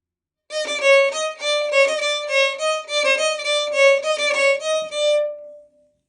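A repeating rhythmic motif from Rhapsody in Blue, played as a fast run of bright, clean notes circling in a pattern for about five seconds, alone and fairly loud.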